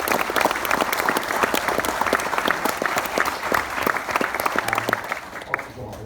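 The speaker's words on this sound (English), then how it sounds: "A round of applause for both of them." An audience at a film festival Q&A applauds, dense rapid clapping from many hands holding steady for several seconds before thinning slightly at the end.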